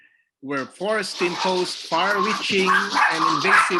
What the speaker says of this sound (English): I'm working at home, so sorry for the dogs, the noise of the dogs.